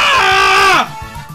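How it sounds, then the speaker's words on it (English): A frustrated person lets out a loud, strained scream, a sustained high-pitched cry of about three-quarters of a second that drops off sharply, followed by quiet. "I'm so frustrated I'm losing, I want to scream"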